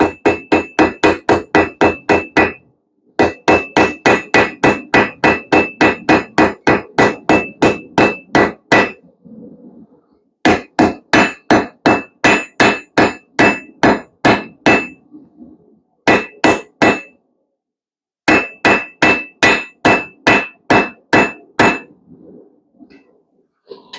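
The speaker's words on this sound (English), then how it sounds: "I'm just going to start spinning this around as I work the hammer" A blacksmith hammers a leaf made from square bar or angle iron on the anvil, rounding its edges while turning it: loud, close, rapid ringing strikes in bursts of steady rhythm separated by brief pauses.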